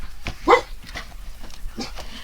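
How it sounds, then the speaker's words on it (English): A dog gives a few short barks and yips, with one sharper bark standing out, fairly close against a quiet background. "Dogs are gonna bark. Cue barking."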